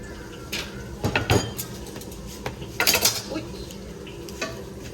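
Chinese donuts and banana slices fry in oil with a soft sizzle beneath scraping and stirring of utensils against a pan, bursts of clatter near the microphone.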